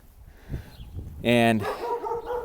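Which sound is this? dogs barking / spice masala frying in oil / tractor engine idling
dogs barking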